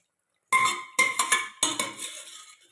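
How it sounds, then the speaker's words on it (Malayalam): Boiled squid, cooked with salt and turmeric, tipped into bubbling masala in a pan: three clear bursts of metallic clatter and scraping against the pan, each fading quickly, close and alone. "ഇതിലേക്ക് നമ്മുടെ വേവിച്ച് വെച്ച നമ്മുടെ കൂന്തൽ, ഉപ്പും മഞ്ഞൾപ്പൊടിയും ചേർത്ത് വേവിച്ച നമ്മുടെ കൂന്തലും കൂടി ഇട്ട് കൊടുക്കുക."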